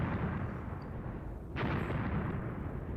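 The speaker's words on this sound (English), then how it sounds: "we've now got our mortars pounding that area." Mortar rounds from the Graviteam Tactics: Mius Front war game: a steady roar of distant battle noise with a single sharp, thumping burst near the middle, no voices.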